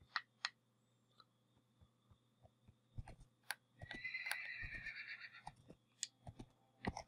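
A horse in Minecraft whinnies in the middle, a bright drawn-out neigh, with scattered clicks and taps before and after over a low steady hum.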